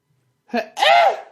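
A voice imitates a sneeze up close: a sharp inhaled catch, then a loud, drawn-out, tonal burst.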